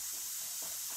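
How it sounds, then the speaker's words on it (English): Steam hisses from a pressure cooker cooking oxtails, a steady soft broadband hiss that carries through the whole moment without any talking. "So I can show you guys the steam from the pressure cooker."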